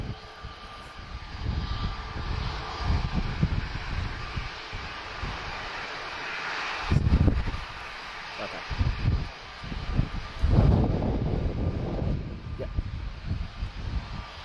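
A jet aircraft departing runway 03 at Lisbon Airport roars in a sustained, loud rumble that swells and fades, heard from a public roadside next to the runway, with wind noise throughout.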